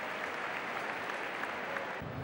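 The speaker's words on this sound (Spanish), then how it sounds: "Pechada ovación para Livon Kendall" Sustained applause from a basketball crowd at a Spanish ACB league game, a dense, even wash of clapping that holds steady throughout, with no talk over it.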